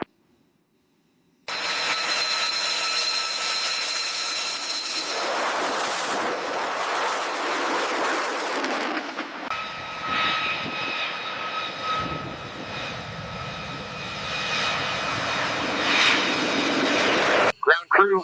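B-2 Spirit bomber engines roar steadily through a full-speed takeoff roll, a loud, continuous jet rumble and whine that shifts in tone partway through, then cuts off abruptly at the end.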